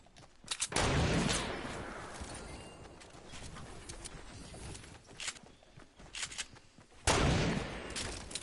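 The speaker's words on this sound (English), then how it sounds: "We got guys shooting from south too." Gunfire in a video game battle, with dense bursts of shots near the start and again near the end and scattered quieter shots and movement in between.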